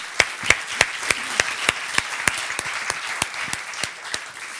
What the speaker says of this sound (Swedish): välkomna med en varm applåd dagens föreläsare